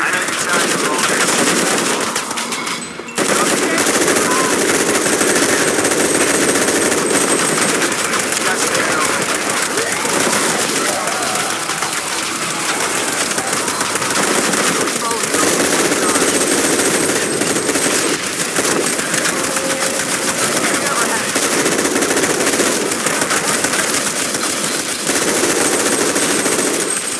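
Heavy, continuous automatic gunfire rattles through a firefight in Shadow of the Tomb Raider. It stays loud and dense almost the whole way, with voices shouting underneath.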